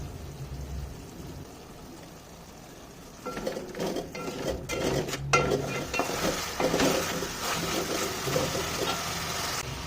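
Ginger garlic paste frying in a pan with turmeric and salt for chicken curry, a quiet hum giving way to steady sizzling and metal clatter of stirring against the pan, alone and fairly close.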